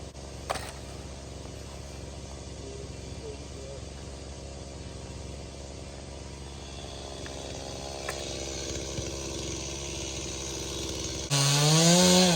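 A broken chainsaw, its decompression button off, runs with a steady engine drone that grows a bit louder toward the end, then cuts to a different tonal sound in the final second. A voice is heard over it.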